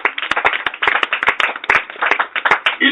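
A church congregation at a 2009 gathering in Bonoua, Côte d'Ivoire breaks into applause, a dense steady clapping from many hands with sharper individual claps standing out, close and sustained.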